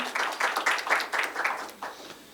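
An audience at a mediation conference session applauds a newly introduced speaker, a moderately loud burst of clapping that swells in uneven waves and then thins out toward the end, with no voices over it.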